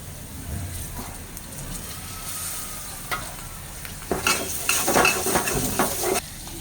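Cooking pumpkin with shrimp: soft oil sizzling runs throughout, joined partway by louder scraping stirs of a utensil in the pan and clinks of metal against cookware.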